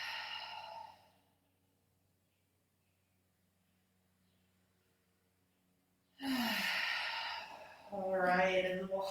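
Two deep breaths are taken during a yoga stretch: a long airy exhale fades into silence, then after a pause a second full breath rushes out and ends in a soft voiced sigh.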